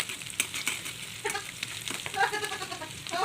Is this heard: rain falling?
no